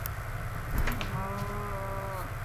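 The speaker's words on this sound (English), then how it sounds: "Hello, cow." A cow moos in the video game Minecraft, a short bleating low tone over steady background game ambience, with no talk over it.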